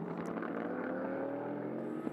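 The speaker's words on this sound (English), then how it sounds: "That's the Mustang you can hear, by the way, blasting its way around" A Ford Mustang GT race car thunders around the Magny-Cours circuit, its engine droning loud and steady for about two seconds with no talk over it.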